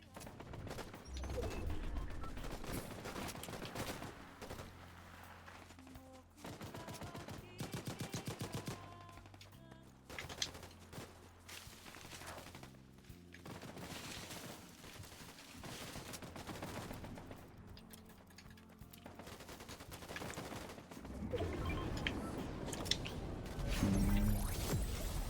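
Fortnite gunfire from players shooting, repeated bursts of shots that come and go over a long stretch amid game noise and a quiet voice.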